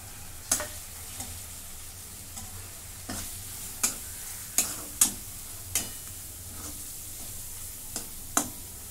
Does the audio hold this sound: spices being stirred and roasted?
yes